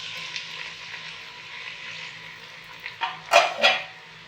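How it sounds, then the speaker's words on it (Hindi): Onions go into hot mustard oil and fry with a steady, fairly quiet sizzle, then a few louder sputtering bursts and pan clatters near the end. "प्याज फ्राई हो रहा है।"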